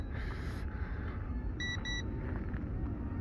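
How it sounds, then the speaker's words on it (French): Two short, high electronic beeps from a toy airplane's remote control sound in quick succession over a constant low rumble of traffic or engine noise. "il y a un petit bip sur la télécommande."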